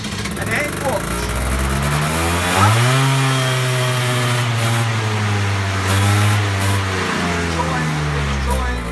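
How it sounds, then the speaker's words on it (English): Peugeot Speedfight scooter engine with suspected worn crank oil seals turning over with the throttle open, a buzzing, rising and falling rasp that catches and sputters, while someone talks over it. "Turn over, get a little splatter, keep turning over, keep the throttle open."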